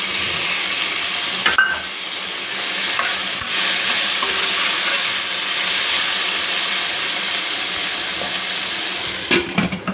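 Tomato and ivy gourd pieces fry with a steady, loud sizzle in a pan while a utensil stirs them now and then, giving occasional scrapes and knocks over the continuous hiss.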